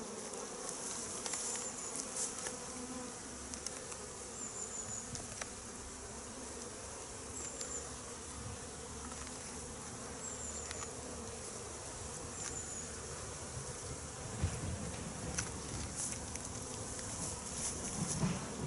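Honeybees buzzing around an open beehive being prepared for winter, a continuous soft hum of many insects with individual bees droning past nearby, quiet and steady throughout.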